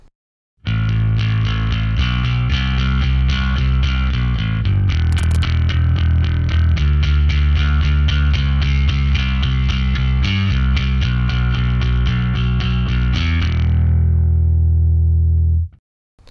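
A bass guitar played with a punk tone through an amp with its ultra high switch on, a loud, driven and distorted stream of steady picked notes that runs continuously and ends with a ringing note fading out.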